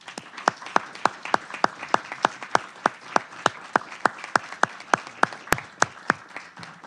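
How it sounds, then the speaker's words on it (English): Sparse applause for panelists at an academic conference on higher education, sounding like a single pair of hands clapping in a steady even rhythm, about three claps per second, close and distinct over a quiet room. "So I would like everyone to give our panelists a big round of applause."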